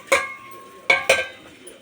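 A metal lid set down on a kuzhipaniyaram pan: three sharp clanking knocks, one then a close pair, each ringing briefly with a metallic tone, near and clear with no talk.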